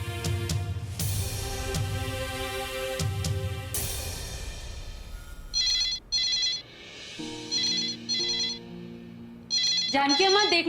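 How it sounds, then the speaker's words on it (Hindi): A telephone rings in a Hindi TV serial, repeated electronic ringtone bursts in a regular on-off pattern, loud and close, following a stretch of dramatic music at the start. "देखना किसका फोन है"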